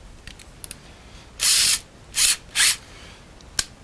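A deburring tool run at low speed against metal for a shop audio mixer build, heard as three short, loud bursts of grinding whine close by, with faint clicks before and after.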